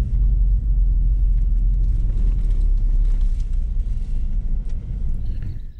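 A car rolls slowly along an old Main Street in Sprague, Washington, to park, its deep low rumble steady and close before fading out at the end.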